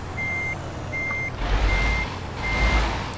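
Scania truck in Euro Truck Simulator 2 reversing, its backup alarm giving four steady, evenly spaced beeps over a low diesel rumble that swells near the end.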